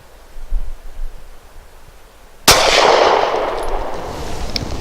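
KelTec PF-9 pistol firing subsonic ammunition outdoors: one sharp, loud shot after a quiet stretch with faint rustling, followed by a long decaying echo that fills the remaining seconds.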